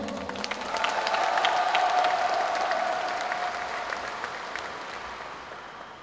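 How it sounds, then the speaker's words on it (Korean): An audience at a party convention in Gwangju applauds in thanks, the clapping swelling, then slowly fading, with a faint crowd murmur and a brief tone beneath it. "감사의 박수 한번 보내주십시오"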